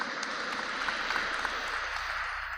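Faint, distant applause from a church congregation for its elderly members during a Sunday Mass homily, a dense, even patter of many hands that holds steady and fades slightly toward the end.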